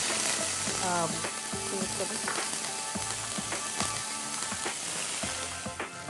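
Onion pieces frying in ghee in a pan for an Indian dish: a steady broadband sizzle with scattered clinks and stirring scrapes, with a voice faintly present underneath.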